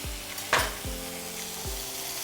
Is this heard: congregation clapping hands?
no